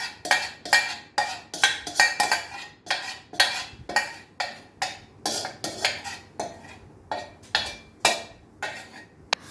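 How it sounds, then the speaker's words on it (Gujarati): Ginger garlic paste being stirred into mashed potato in a pot for aloo paratha, heard as a steady run of sharp spoon-on-metal clinks and scrapes, close and fairly loud, with no talking. "હવે આપણે તેને હાંસીથી પકડીને મિક્સ કરીશું, જેનાથી તપેલી હલે નહીં."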